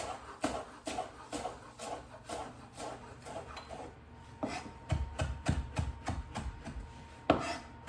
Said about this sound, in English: I'm just gonna do a little handful of it and give it a rough chop